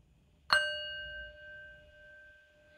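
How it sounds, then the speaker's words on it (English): A single gentle bell is struck once to open a bedtime relaxation ritual; its bright strike gives way to a long, clear ringing tone that fades slowly, heard alone over a faint, quiet background. "Begin with a gentle bell."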